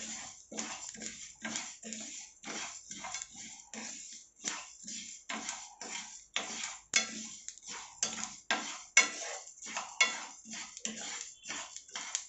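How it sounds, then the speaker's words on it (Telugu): Chicken pickle ingredients being roasted in a pan on a medium flame, stirred with a metal spoon that scrapes and clinks against the pan in a steady repeating rhythm, close and fairly loud. "మీరు కూడా ఇలాగే మంచిగా మీడియం ఫ్లేమ్లో బాగా రోస్ట్ చేసుకోవాలి"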